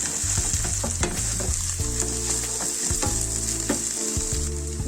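Mint leaves fry in a hot pan for kaada biryani, a steady close sizzle with occasional stirring scrapes throughout, no voices.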